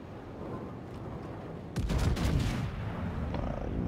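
A Thunderer battleship fires a high-explosive main-gun salvo in World of Warships, a sudden heavy boom that rumbles on for about a second over steady game ambience.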